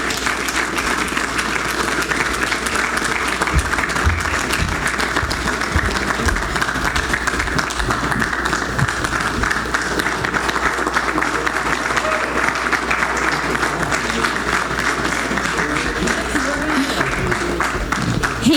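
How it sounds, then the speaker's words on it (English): Loud, sustained applause from a conference audience for the winner of a speed pitch competition, dense steady clapping that continues throughout with a faint murmur of crowd noise mixed in. "let's give him one more big round of applause"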